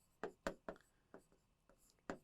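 Chalk or marker strokes on a lecture board, a handful of short scratchy taps and scrapes spaced irregularly, close and fairly quiet with no voice over them.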